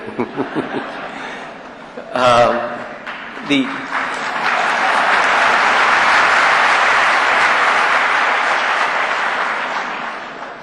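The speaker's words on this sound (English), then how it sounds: "I welcome any applause you want to give me." After a talk on India's strategic challenges at a Pan IIT gathering, the audience chuckles and laughs briefly before broad applause builds into a sustained, even wash that slowly tapers.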